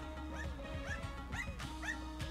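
A dog in the video game Enter the Gungeon gives a quick run of about four short yips and barks at a moderate level, with low game sounds underneath.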